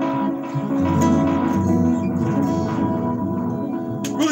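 A bass guitar runs through a tape delay pedal with its built-in reverb on, giving a sustained, washed-out low tone with lingering echoes throughout and no speech.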